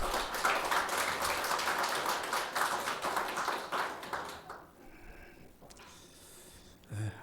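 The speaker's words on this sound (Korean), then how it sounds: "감사와 영광의 박수 올려드리겠습니다." Church congregation clapping together in praise during a Sunday worship service, a dense, sustained burst of many hands that fades out over several seconds, leaving a quieter room with a few stray sounds.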